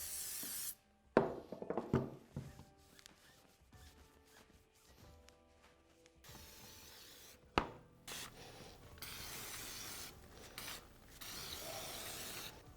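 Dirt bike fork parts, Showa SFF-Air TAC forks, being cleaned on a workbench: scraping, rubbing and clinking of metal with a few sharp knocks, steady handling noise close by without talk.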